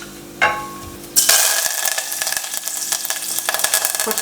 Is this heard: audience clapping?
no